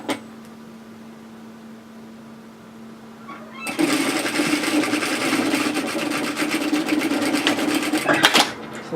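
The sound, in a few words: sewing machine stitching kimono robe shoulder seam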